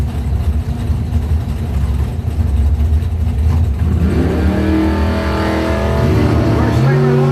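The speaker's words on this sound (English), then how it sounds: "Doorslammer launching first." Doorslammer drag cars launch hard at a drag strip, one a 1979 Malibu: loud engine roar and revving that climbs steeply in pitch after a few seconds of idle rumble, with an announcer talking over it.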